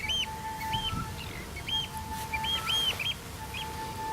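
An oystercatcher gives a repeated piping alarm call, a string of short, sharp, high notes in quick bursts, over steady wind and rumble outdoors.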